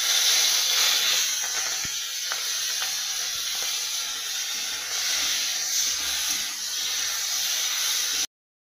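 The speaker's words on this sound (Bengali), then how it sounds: "আগে থেকে ভেজে নুন হলুদ মাখিয়ে রাখা চিংড়ি মাছগুলো ভেজে নিলাম।" Salted, turmeric-coated prawns frying in hot oil in a pan, a steady close sizzling hiss with a few faint clicks and taps, no talking.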